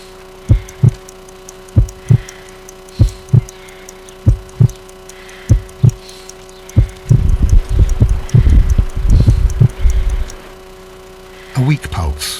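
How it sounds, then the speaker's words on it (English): Heartbeat sound effect in a Sherlock Holmes detective game: slow, evenly spaced paired thumps repeating over a steady low hum, later joined by a dense burst of rumbling noise, with scattered beats near the end. "I need to concentrate and count the heartbeats."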